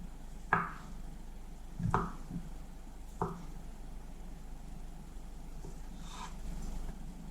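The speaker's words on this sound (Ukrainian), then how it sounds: "Нарізаю картоплю великим кубиком" Knife slicing boiled jacket potatoes into large cubes on a board, a few distinct soft chops spaced out and close by, followed by quiet room tone.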